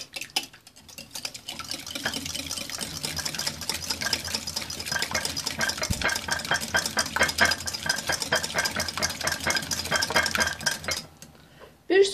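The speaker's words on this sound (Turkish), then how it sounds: "Çırpıcıyla çırpalım." Two eggs are beaten briskly with a wire whisk in a mixing bowl, giving a fast, steady, continuous clatter of metal tines against the bowl for about ten seconds before stopping.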